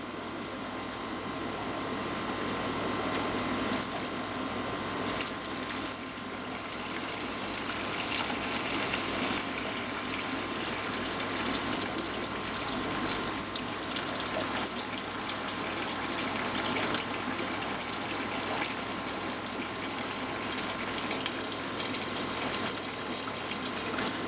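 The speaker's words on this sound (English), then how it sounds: "it just sucks the organic waste, which is lighter than the sand, up off the top with a bit of water down into your bucket" Aquarium gravel cleaner siphoning water from a sand-bottom tank into a bucket, giving a steady, close gushing and trickling flow that runs almost unbroken for the whole stretch.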